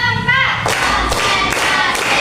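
Children in a classroom clap four times in unison on a teacher-led chant: loud, evenly spaced claps close by, after a brief voiced lead-in.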